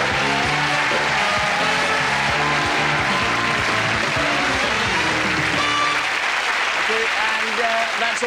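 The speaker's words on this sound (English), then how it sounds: "Give them a round of applause." A studio audience applauds at the close of a late-1990s television show, giving steady, loud, dense clapping that carries on for several seconds before easing slightly near the end.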